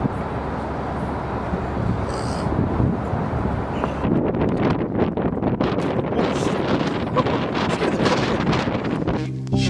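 Strong gusts buffet the microphone in a continuous loud roar at an outdoor spot, with heavy low rumbling throughout and harsher bursts in the second half.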